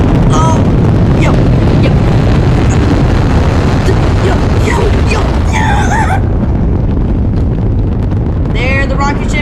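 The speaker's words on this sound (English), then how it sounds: "There the rocket ship goes." Firework rocket ship launching in the video game Firework Playground: a loud, continuous roaring rush with booming blasts fills the whole stretch, ending in a steady whoosh, with a voice talking faintly underneath.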